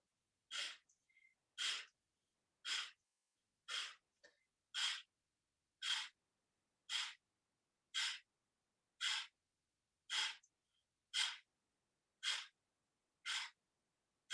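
Rapid, forceful exhales for a solar plexus breathing exercise, about thirteen sharp, loud breaths pushed out through the nose at an even pace of roughly one per second, close up against near silence.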